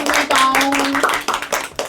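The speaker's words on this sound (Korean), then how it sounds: "우리 박수" Short burst of group clapping at a church Tuesday Bible study class, brisk uneven hand claps lasting under two seconds with a voice briefly over it.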